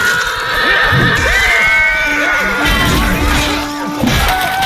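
A horse neighs in the medieval combat video game Chivalry 2, a whinnying cry rising out of a dense wash of battle noise, clashing weapons and crowd din.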